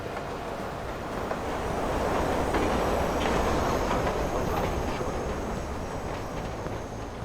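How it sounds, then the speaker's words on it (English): A train departs a station in the Watch Dogs video game, set on a rainy Chicago night; a dense, continuous rolling rumble with faint rhythmic clatter swells and then holds at a steady level, with no voices. "We're gonna listen to the train leaving now."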